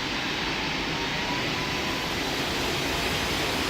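Steady, loud broadband jet roar of a United Boeing 757 on its takeoff run in the Roblox flight game PTFS, a constant rushing wash with no talk over it.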